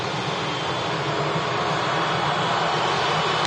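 Steady, loud airliner engine drone at Manchester Airport as the aircraft is configured for taxi, a continuous broadband roar with no break.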